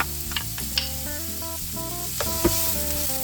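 Onions sizzle in hot oil in a heated pan, a soft steady crackling hiss with small pops and spits scattered throughout.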